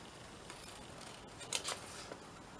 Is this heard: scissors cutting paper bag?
yes